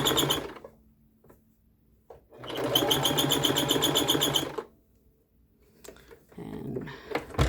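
A Singer Promise sewing machine runs a straight stitch in two bursts, a steady close whirring hum with rapid needle ticking, separated by a pause with light handling noises and quiet talk around it.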